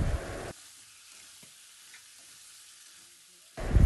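Potatoes, shrimp and pointed gourd sizzle as they are stirred in hot oil, a steady close frying hiss with faint scraping, bracketed by louder bursts of kitchen noise at the start and end.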